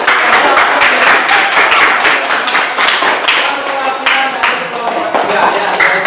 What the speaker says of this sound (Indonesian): tepuk tangan dulu ya